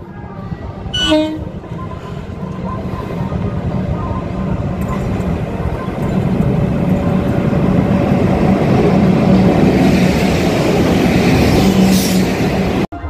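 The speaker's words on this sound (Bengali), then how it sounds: "এই যে একটা ট্রেন আসছে দূর থেকে, আর এইদিকেও একটা ট্রেন আসছে, মালগাড়ি।" A freight train approaches on a rail bridge over the Kangsabati river. A horn blast sounds near the start, then a heavy rolling rumble of wheels and wagons builds and stays loud and close throughout.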